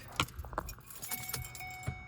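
Car keys jangle with a few close metallic clinks as they go into the ignition of a 2009 Ford Escape Hybrid, with a sharp rattle at the start and another near the end, no talking.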